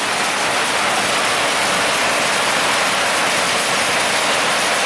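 Rainwater gushes steadily off a tank in a loud, unbroken rush of splashing water with no pauses or voices.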